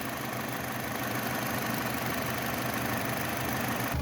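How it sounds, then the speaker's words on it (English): A 2017 Toyota C-HR engine idles in a steady, even drone that holds at constant loudness throughout, with no voices. "Okay, with the motor running."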